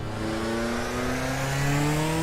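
A right-hand-drive car's engine pulls steadily from inside the cabin as it accelerates, its pitch climbing in a constant loud drone with no talking.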